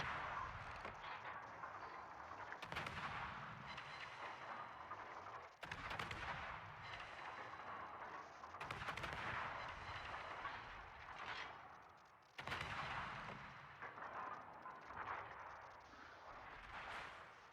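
Warship guns in a naval battle video game boom in heavy, rumbling salvos, several broad blasts spaced a few seconds apart with a continuous low roar between them and no talking.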